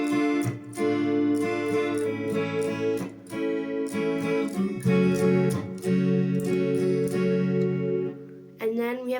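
An electric guitar, sounding clean with slight effects, strums and picks a sequence of chords from a song, ringing up close with short pauses between changes.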